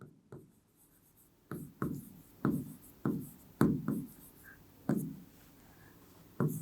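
A pen scratches across paper in short separate bursts, about nine distinct strokes with brief pauses between them. It is close and fairly clear against a quiet room, with no talking.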